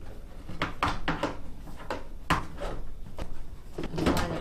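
A rubber door gasket on a Samsung VRT steam washer being pushed back into place, giving a series of short soft thumps and snaps spread through a few seconds, close up and fairly loud.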